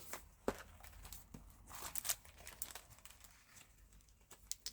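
A paper envelope is grabbed at a card-stamping craft table, giving soft, close crinkles and rustles in short, irregular bursts with quiet pauses between.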